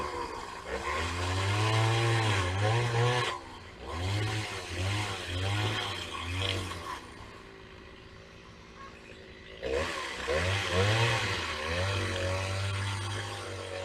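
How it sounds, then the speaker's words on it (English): A chainsaw runs loud and close in bursts, its engine revving up and down in several rising and falling cycles with a short drop to idle in the middle before it roars again. "when I fired up the chainsaw"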